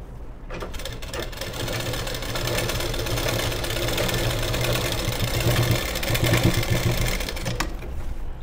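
Stitching runs along a blouse sleeve on a sewing machine, a steady close mechanical whir and rapid knocking that lasts the whole stretch, with nobody talking.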